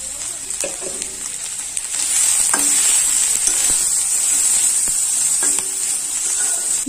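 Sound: spice paste frying in a pan

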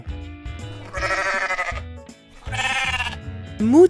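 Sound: sheep bleating

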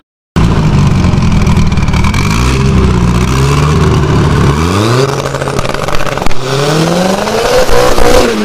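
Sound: turbocharged Chevrolet Chevette engine revving

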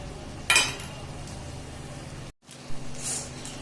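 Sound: stirring cauliflower curry with peanut powder in pan

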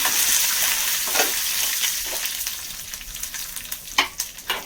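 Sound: curry leaves sizzling while frying and stirring

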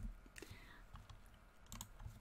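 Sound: typing on a computer keyboard

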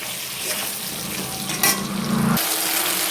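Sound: ginger, chilli and tomato masala paste frying in pan

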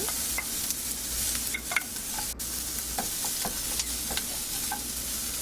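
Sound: onions frying in a pan

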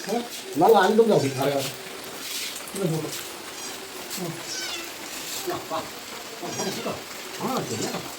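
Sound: rain falling

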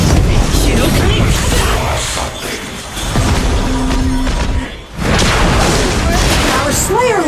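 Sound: enemy tower destroyed in Arena of Valor video game

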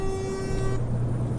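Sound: truck horn honking, from video game Euro Truck Simulator 2

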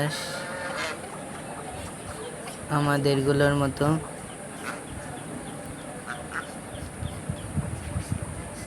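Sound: Chinese geese honking

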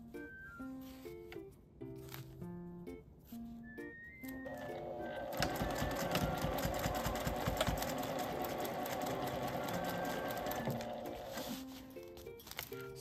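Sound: sewing machine stitching aluminum cooler bag sheets

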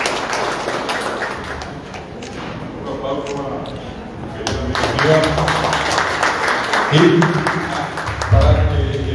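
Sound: audience applause

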